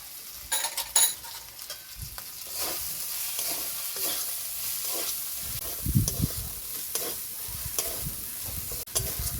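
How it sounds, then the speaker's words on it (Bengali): Masala with Kashmiri chilli powder stirred and frying in a pan for a chicken liver and jackfruit dish, steady close sizzle with scraping spoon strokes and clinks throughout, no talking. "ভালো করে নেড়ে চেড়ে কষিয়ে নেব।"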